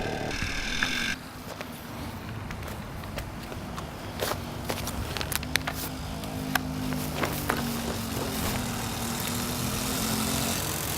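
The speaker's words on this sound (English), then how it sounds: "just rev it up, rev it up, rev it up" A small engine on a 1977 moped runs and revs, a steady buzzing drone with rising and falling pitch, mixed with scattered clicks and shuffling footsteps nearby.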